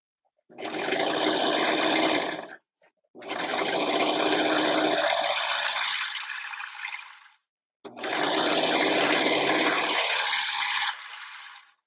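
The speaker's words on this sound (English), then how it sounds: "I'm just going to go over here and serge this here real quick." A serger sewing machine runs while serging fabric in a home sewing studio, giving three loud, close, steady whirring bursts of a few seconds each, separated by brief pauses, with no talk.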